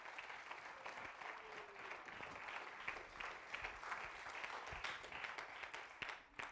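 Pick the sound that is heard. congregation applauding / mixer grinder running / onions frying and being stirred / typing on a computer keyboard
congregation applauding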